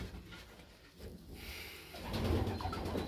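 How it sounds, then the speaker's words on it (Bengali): A female pigeon in a loft gives low, soft cooing close by, swelling louder toward the end over faint room noise. "মাদি কবুতর না? হ্যাঁ, মাদি কবুতর।"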